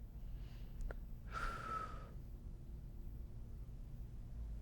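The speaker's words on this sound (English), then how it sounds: "We're going to exhale, then inhale back to center." A single breath drawn in and pushed out during a seated chair core exercise, close and soft, a brief airy rush standing alone against quiet background hiss.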